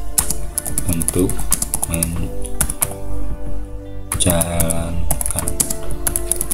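Rapid keystrokes on a computer keyboard while text is typed into Microsoft Word, a steady irregular clatter of close, crisp clicks with a brief pause partway through.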